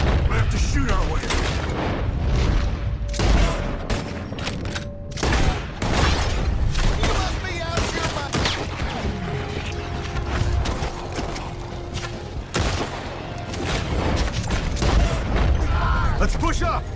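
A Red Dead Redemption 2 shootout rattles with repeated gunshots and sharp impacts at close range, steady and loud throughout, mixed with voices and game sounds.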